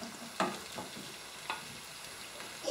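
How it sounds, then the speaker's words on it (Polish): Sliced mushrooms tossed into a hot frying pan beside softened, glassy onion, giving a soft, steady sizzle with a few quick stirring clacks and scrapes, fairly quiet and without talk. "na pozostałą część wrzucam pieczarki"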